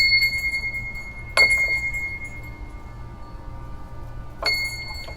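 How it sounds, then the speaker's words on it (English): A small hand bell struck twice, each ring bright and metallic with a lingering tone, at a church restoration site, close by against a steady low hum. "Here's my little bell."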